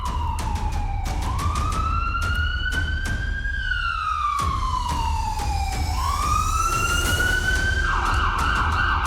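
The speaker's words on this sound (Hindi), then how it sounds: "ये सायरन की आवाज़ें आप सुन रहे हैं" Air raid sirens in Pakistan wail in rising and falling sweeps, with several overlapping tones at different pitches. The sound is loud and sustained over a steady background rumble, broken by scattered sharp clicks, and no one speaks.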